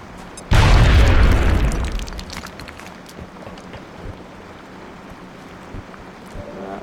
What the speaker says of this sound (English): Drop a nade on these bad boys.